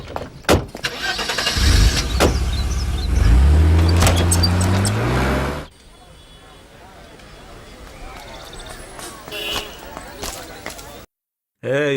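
A car engine starts and pulls away with a loud rising rev that climbs for several seconds, then cuts to a quieter stretch of faint background sound with scattered knocks.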